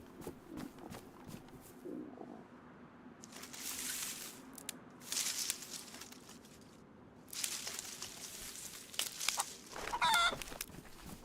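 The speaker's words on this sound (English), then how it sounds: "Fucking angry chicken." Agitated clucking from a chicken at a coop in the survival game DayZ, several squawking bursts over a steady outdoor ambience, moderately close and unaccompanied by speech.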